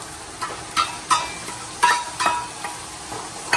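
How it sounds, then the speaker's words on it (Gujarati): Onion and tomato gravy with chilli-garlic paste is stirred in a pan, with repeated scraping strokes of the spoon over a soft, constant sizzle, close and without speech. "એને બરાબર હલાવી લેવાનું"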